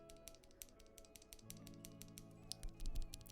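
Freshly soldered mechanical keyboard switches on a Hex.4B Dreamcore Edition board clack in a quick, uneven string of sharp taps, fairly faint, over a low background hum.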